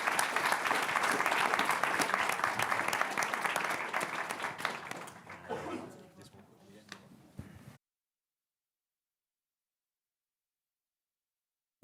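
An audience at a China conference gives the three panelists strong, dense applause that holds for several seconds, thins into scattered claps and stops abruptly, followed by silence.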